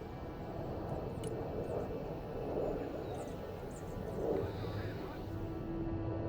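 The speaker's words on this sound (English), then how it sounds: "Now call in a Harrier to make a bombing run." A Harrier jet flies a bombing run in the modern war strategy game Broken Arrow, its engine a steady, moderately loud drone that swells a little in places under faint background battle noise.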